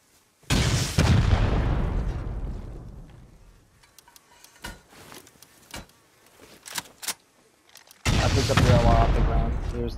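Video game gunfire at a target, two loud booming shots at the start and end with long decaying tails, and scattered sharp clicks and smaller impacts in between.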